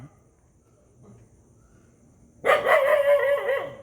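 A dog barks loudly and rapidly in a sustained burst close by, after a couple of seconds of near quiet.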